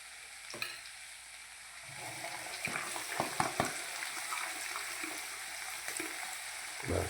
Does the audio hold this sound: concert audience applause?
no